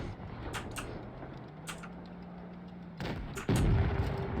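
A tank shell ricochets off a turret in a tank video game, a single sharp metallic impact amid engine rumble, followed by a louder booming shot near the end.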